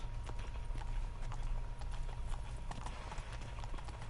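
Horse hooves clip-clop in a steady rhythmic gait in The Witcher 3 video game, close and continuous over a low rumbling background.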